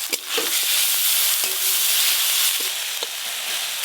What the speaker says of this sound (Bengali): এবার জলপাই আলু দিয়ে কাঁকড়া ঝালের জন্য প্রথমেই তেলে পেঁয়াজ কুচি দিয়ে দেবো, পেঁয়াজ কুচি, আদা রসুন বাটাও দিয়ে দেবো